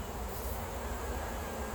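Honeybees drone in a low, continuous buzz during a hive inspection while honey is being pulled, a steady, fairly faint hum with no pauses or voices.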